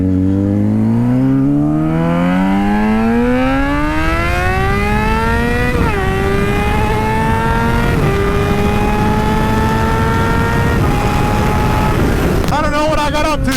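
A motorcycle accelerates hard through its gears in a strong pull, the engine note climbing steadily with several upshifts, loud and close throughout, ending with a rattly burst.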